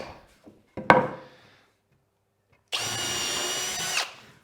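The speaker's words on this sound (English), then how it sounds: "Just going to pre-drill it." A power drill pre-drills screw holes in wood for saw horses: a brief sharp bite, a pause, then a steady high whine lasting over a second before it stops.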